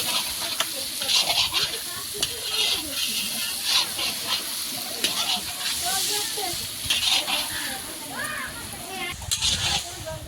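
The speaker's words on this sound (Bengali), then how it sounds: "কিভাবে মাংসটা কষানো মশলাতে পড়ছে" Meat sizzles steadily as it fries in a spiced masala, with the scrape of stirring over a constant hiss. Voices talk over the cooking throughout.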